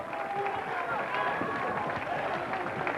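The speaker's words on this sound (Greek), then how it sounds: "Ένα χειροκρότημα στον Αλέκο!" Applause and crowd noise for Alekos, a barber, at a 1992 gathering in Megalo Pazari, a steady dense patter lasting throughout with voices mixed in.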